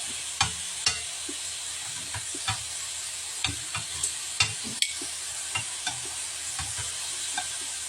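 Korean cheese hot dogs fry in hot oil, giving a steady close sizzle with frequent small pops and crackles scattered throughout, and no talking.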